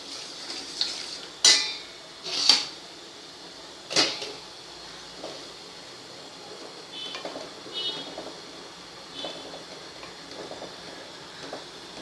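Pasta being stirred in a pot of boiling water, with a few sharp metallic clinks of the spoon against the pot rim over a soft bubbling background, no talk.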